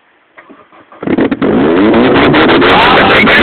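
An Opel Vectra engine cranks, catches and fires up, then settles into a loud, sustained revving roar close by after a brief starter whir.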